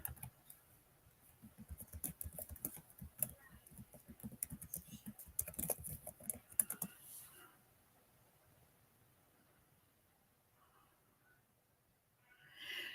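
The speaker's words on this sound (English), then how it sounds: "I'll type it in the chat." Typing on a computer keyboard during a casual Sunday coffee-break livestream, a quick run of clicking keystrokes for several seconds near the microphone, then fading to quiet room tone.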